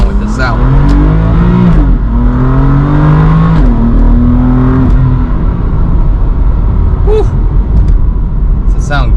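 A BMW F81 M3 with the S55 engine revs hard, its loud rising and falling drone climbing through several gear-like pulls before settling into a steady roar.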